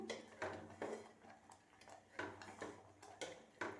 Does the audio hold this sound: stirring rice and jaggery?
yes